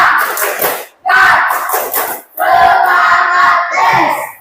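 A class of schoolchildren performs the tepuk semangat cheer in a classroom, loud rhythmic bursts of group clapping and shouted chanting in three close phrases, with the voices near and filling the room.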